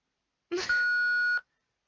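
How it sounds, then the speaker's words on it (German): A single electronic answering-machine beep in the game Thimbleweed Park: a short clicky onset, then one clean sustained tone lasting under a second, alone in silence. "Dann sprich dich mal nach dem Piepton aus"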